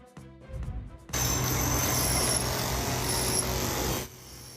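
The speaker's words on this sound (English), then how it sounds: "that's the sound of repair work on yet another BC highway overpass" A brief knock, then a loud continuous grinding and scraping of power tools during repair work on a highway overpass in British Columbia, steady for several seconds before cutting off.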